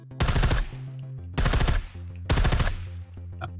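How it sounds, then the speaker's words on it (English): An M249 machine gun firing in the video game SCUM, three loud, sharp bursts of rapid automatic fire, each lasting under half a second and separated by short gaps. "I'm gonna show you now the M249."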